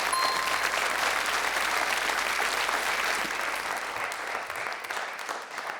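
A studio audience at a French quiz show applauds an answer with dense, sustained clapping that holds strong and then gradually thins and softens toward the end.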